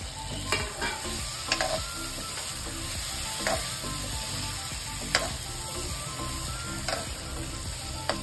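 Eggplant pieces for masala vankaya sizzle steadily in a hot pan, with occasional sharp clicks and scrapes from stirring over a constant low frying hiss; no one speaks.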